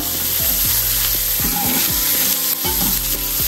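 Ingredients sizzle and fry in hot oil in a pan while cooking a village-style egg and chicken curry, a steady close crackle with occasional stirring clinks, no voices.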